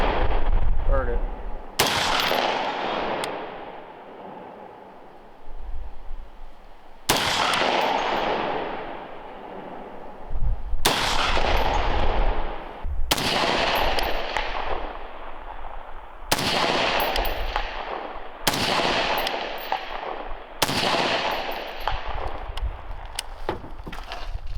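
Rifle fitted with an Expo 13.95-inch Patrol Series barrel firing outdoors: about seven loud, sharp gunshots spaced a few seconds apart, each followed by a long rolling echo and decay.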